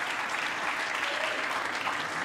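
A live crowd at a Speed Chess Championship 2025 event applauds steadily, a dense, even wash of clapping with some cheering that holds at the same loudness throughout.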